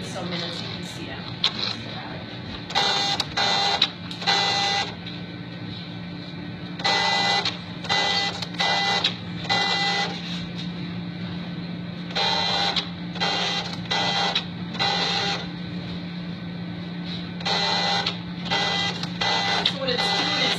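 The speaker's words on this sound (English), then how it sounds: "It's going to start by cleaning the needle a bunch of times, and then it's going to sample and throw away a few times." A gas chromatograph autosampler cleans its syringe needle and draws samples, making repeated short mechanical whirring and clicking bursts in a steady stop-start rhythm over a constant low hum.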